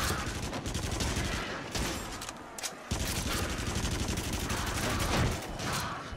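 Rapid bursts of shotgun and gunfire in the VR shooter Until Dawn: Rush of Blood, loud and dense, repeating almost continuously with brief gaps.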